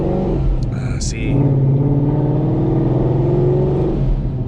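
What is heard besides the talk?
Procharger supercharger whine, car revving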